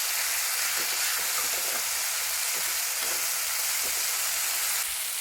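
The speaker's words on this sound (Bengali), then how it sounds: "সেই জন্য এইভাবে নাড়াচাড়া করে সুন্দর করে কষে নিতে হবে" A tomato, onion, ginger and garlic masala for Bengali Gurjali fish kaliya fries in a pan with a constant loud hiss, punctuated by soft scraping as it is stirred, close by and without talk.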